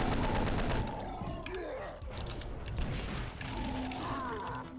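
Rapid chain gun fire in Doom 2 against imps and shotgunners, a dense stream of shots, loud and close, with monster growls and game effects mixed in.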